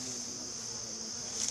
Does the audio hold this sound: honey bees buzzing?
yes